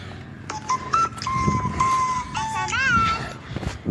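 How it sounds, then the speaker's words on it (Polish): A phone plays its SMS text message notification outdoors, a short electronic melodic jingle with rising and warbling tones, over street noise and passing chatter. "to jest dźwięk SMS-ów"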